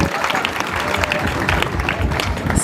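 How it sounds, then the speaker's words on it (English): An audience applauds at a retirement ceremony, with sustained crowd clapping that mixes with voices and cheering throughout the short stretch. "A big clap for her."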